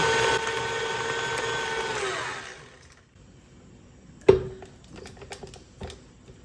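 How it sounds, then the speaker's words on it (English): An electric mixer whirs on high through pumpkin roll batter with a steady whine for about two and a half seconds, then shuts off, leaving a few sharp clanks and knocks. "so I get pretty aggressive with the mixing. I go high."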